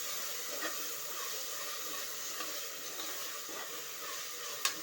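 Chopped onion with a little turmeric sautéing in a pan gives a steady, soft sizzle and hiss throughout, with a single sharp click near the end.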